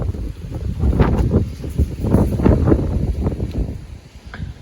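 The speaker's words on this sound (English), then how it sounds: "This wind is so crazy." Strong wind gusts of around 45 to 50 mph buffet the microphone in loud, rolling bursts of low roaring turbulence that rise and fall irregularly over several seconds.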